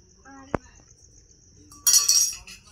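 A small cooking pot rings with a single sharp metallic clink from a ladle while rice is stirred in a home kitchen, followed by a short burst of scraping clatter, with faint voices nearby.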